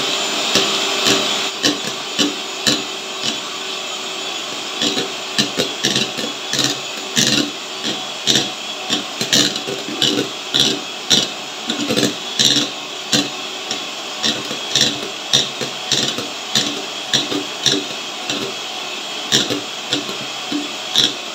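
Chocolate sponge cake batter being mixed in a bowl, probably with an electric beater or mixer, making a steady close whirring hum with rapid scraping pulses repeated throughout and no talk.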